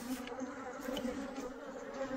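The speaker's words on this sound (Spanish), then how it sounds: "las abejas, bueno, me han picoteado, pero miren cómo andan contra mí ahorita," A swarm of thousands of attacking bees buzzes close and loud in a smoky outdoor spot, a dense unbroken drone with rising and falling pitch and no talking.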